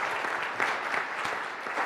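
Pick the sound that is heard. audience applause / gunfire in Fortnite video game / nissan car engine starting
audience applause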